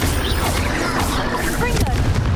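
A Bombarda spell explosion in Hogwarts Legacy gives a loud, close blast with crashing debris over a dense low rumble of combat noise. Someone talks during it.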